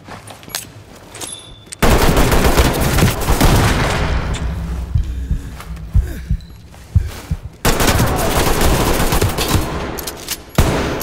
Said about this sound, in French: Si j'ai cru comprendre qu'il y avait d'autres coups de feu.